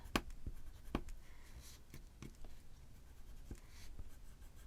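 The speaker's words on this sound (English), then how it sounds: "I'm pressing fairly hard with this white pencil to make that happen." Firm strokes of a white colored pencil on paper, pressed hard while coloring a small snowman tag design; a steady dry scratchy rasp with a few sharper taps, close and soft, with no talking.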